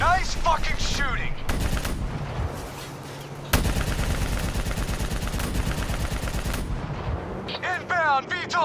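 Sustained heavy gunfire and explosive blasts fill a Call of Duty: Black Ops 3 battle scene, loud and dense with shifts in intensity and brief radio-like voices at the start and end.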